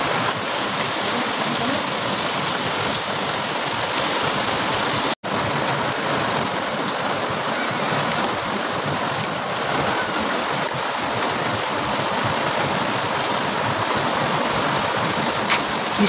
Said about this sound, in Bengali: আর এদিকে বাইরে প্রচণ্ড বৃষ্টির আওয়াজ হচ্ছে,